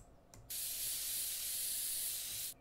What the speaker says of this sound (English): Actually, maybe I should finish spray painting you.